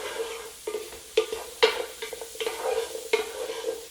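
Bell peppers stir-frying in a pan for a healthy stir fry, a steady sizzle broken by repeated scraping stirs of a utensil, close and moderately loud with no voices.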